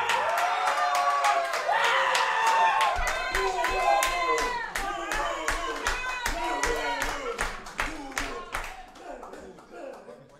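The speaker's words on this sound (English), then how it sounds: "let's all, like, cheer like it's actually Zugabe cheering" A live audience at a Windisch Quartett livestream at Donau115 cheers, whoops and claps steadily for an encore, a dense wash of hand claps and raised voices that slowly thins toward the end.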